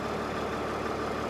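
An old abandoned RV engine idles steadily after being coaxed into starting, a low, even, moderately quiet rumble with no talk.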